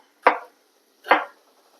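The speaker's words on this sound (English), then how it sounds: "I'm just going to go ahead and chop the other 5 tomatoes" A knife cuts through fresh tomatoes on a cutting board, two crisp, separate chops about a second apart in a quiet room.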